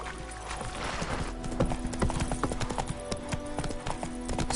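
Horse hooves clip-clopping at a steady gallop in The Witcher 3, rhythmic and close over a faint background of ambient hum and music, with no one talking.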